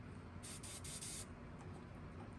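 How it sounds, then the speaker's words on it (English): Fluorescent chartreuse paint is airbrushed over a stencil onto a perch-pattern fishing lure in a short, steady hiss lasting under a second, close and fairly quiet, with faint room noise around it. "I'll spray this, and I want it to touch the tops of the stencil so it kind of hides what I did with that."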